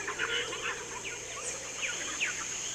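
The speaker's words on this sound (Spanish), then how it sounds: "podemos escuchar entremezclados los gritos de los monos, trinos de pájaros y reclamos de todo tipo" Birds in the Peruvian jungle give quick, repeated chirps and short calls over a constant hiss of insects and forest ambience, moderately distant with no voices.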